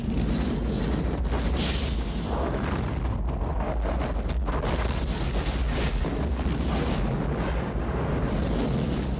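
Gas explosion on the third floor of a building in a film scene: a dense, sustained roaring rumble with crackling debris and blast noise, loud and continuous throughout, without any talking.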